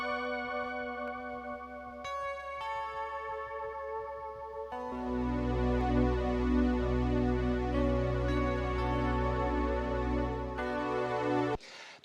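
Layered synth pads swell in over a punchy DX7-style synth bass from a song, starting as a thin pulsing bass line then blooming into a loud, dense, sustained chordal wall that cuts off abruptly near the end.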